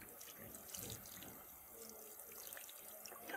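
A sink faucet runs steadily as hands are rinsed from wrist to fingertips during a handwashing skills demonstration, a close, continuous splash and trickle with no talk.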